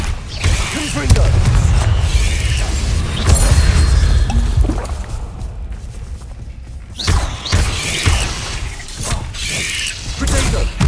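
Blasts from the Confringo spell in the video game Hogwarts Legacy, loud whooshing bursts and crashing impacts over a rumbling, mechanical-sounding combat din with several sharp hits spread across the stretch.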